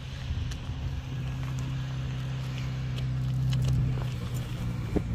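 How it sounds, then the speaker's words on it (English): A hot rod car driving around on a Sunday cruise near Point Lowly, Whyalla, heard as a steady low engine rumble with wind buffeting the microphone throughout, no talk. "we've got the hot rod out today, having a little drive around"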